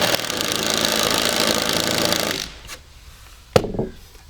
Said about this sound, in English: When I drill a pilot hole, the screw doesn't split the wood